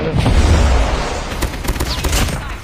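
Loud, dense gunfire from Call of Duty Mobile in ranked multiplayer: rapid overlapping shots and bursts fill the first half, then thinner, more scattered firing with a faint voice briefly underneath.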